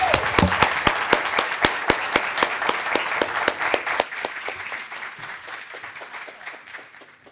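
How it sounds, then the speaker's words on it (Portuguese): Audience applause at an evening school education event, dense rhythmic clapping close by that keeps up strongly for about four seconds, then thins out and fades as fewer hands keep going. "Uma salva de palmas."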